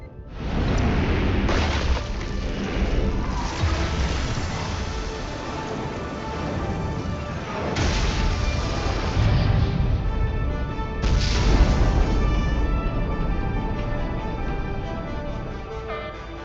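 Starship weapons fire a salvo in the Star Trek Resurgence video game, with continuous loud booming blasts and crashing explosions that swell and hit harder in waves over several seconds.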